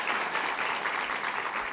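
Steady applause from an audience fills the whole moment, dense and continuous clapping without any voices standing out.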